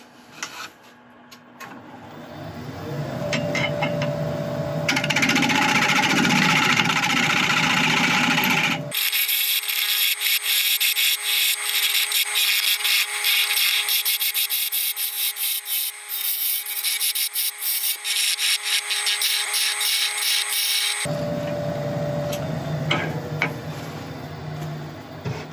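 A wood lathe turns a spalted wood dolphin, the tool rubbing and scraping the spinning piece in a steady, loud, continuous drone, with a hollow sanding-like hiss that shifts in tone partway through before returning.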